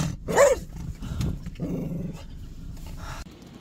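A muzzled dog growls low and close, with a brief sharper yelp-like vocal near the start and a rumbling snarl continuing after it.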